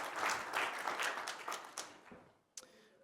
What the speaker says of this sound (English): can we have a warm round of applause for Luke and James